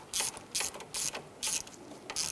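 A ratchet snugs down the nut on a crankshaft position sensor of a 1999-2004 Jeep Grand Cherokee 4.7L, sounding as five short, crisp bursts of rapid clicking, close and alone.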